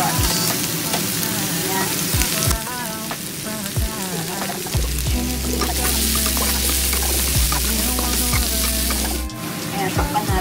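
Garlic, onion and carrots sizzle in a hot pan while stir-frying for Korean japchae, a steady loud hiss with stirring scrapes, a low hum joining midway, and a brief voice.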